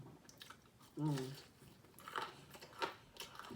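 Crunchy fried chicken bitten and chewed close to the mic, a loud crisp bite followed by several softer crunching chews, with a brief voiced sound over the first bite.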